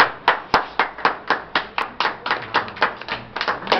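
Loud, rhythmic clapping from an audience at a Sindhi devotional program at a temple in Ulhasnagar, a steady run of sharp hand claps close by with no talking.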